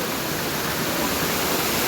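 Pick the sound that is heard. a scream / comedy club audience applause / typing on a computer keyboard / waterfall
waterfall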